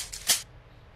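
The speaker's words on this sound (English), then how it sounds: "Then you have a shotgun load." A video game shotgun load sound effect: one brief, sharp, bright mechanical clack, close and dry, fading quickly into quiet.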